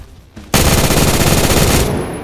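After a brief quiet moment, a long burst of rapid automatic gunfire erupts in a Roblox shootout, loud and continuous for over a second before cutting off.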